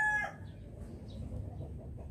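A rooster's crow cuts off within the first fraction of a second among chickens of quality birds from Ilocos, leaving a low, steady barnyard rumble with no one talking.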